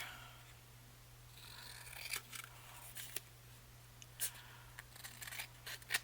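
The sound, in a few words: trimming paper tag with scissors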